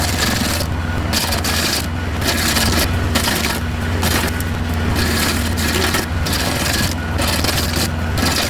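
A tractor PTO-driven grinder, sized for tractors of 15 to 45 horsepower, works through wood with a steady loud grinding rasp and scraping, dense and continuous with slight recurring dips.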